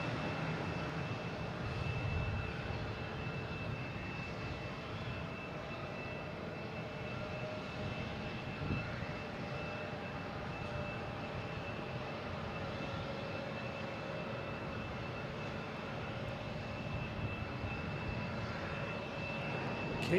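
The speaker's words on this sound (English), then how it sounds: "next taking off is a JetBlue heading to Charleston, the A220" JetBlue Airbus A220 taking off at Boston Logan, a faint, steady jet rumble with a thin high whine, distant and even across the whole stretch.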